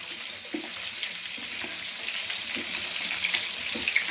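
Chicken pakoras fry in hot oil with a soft, continuous sizzle, punctuated by faint knocks and clinks of utensils, quiet and close without talking.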